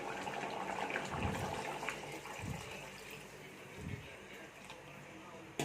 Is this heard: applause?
no